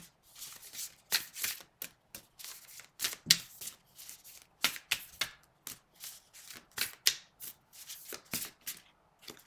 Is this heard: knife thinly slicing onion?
no